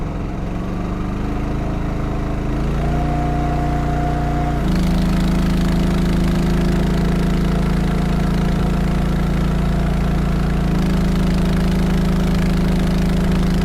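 A Huayee SHY10 mini excavator's diesel engine runs steadily and loud, its pitch stepping up partway through as it's revved higher, then holding a strong, even drone.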